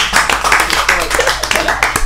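A small group of people clapping quickly and unevenly, close and fairly loud, with busy overlapping hand claps throughout.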